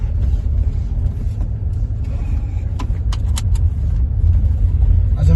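From inside the cabin, a long-neglected Land Rover Discovery pulls out onto a public road with a steady, loud low engine rumble and road noise, plus a few faint rattles.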